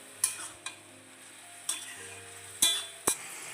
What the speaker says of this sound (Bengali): এই সময় আরও ভালো করে একটু নেড়ে চেড়ে মিশিয়ে নিচ্ছি